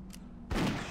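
A dwarf hunter firing a gun in World of Warcraft, one sudden close burst of gunfire and impact noise cutting in after a quiet moment.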